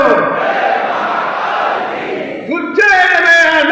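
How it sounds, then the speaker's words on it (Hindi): A large crowd in Ujjain roars together in a sustained chant-like shout. Partway through, a single voice rises clearly above it. "और मैं एक नारा लगाऊंगा यहाँ"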